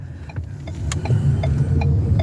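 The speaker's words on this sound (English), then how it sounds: "Traffic was always bad. Now we can say it's super bad." Heavy car traffic on a Los Angeles street rumbles past nearby, a steady low engine roar with passing vehicles and a few faint clicks.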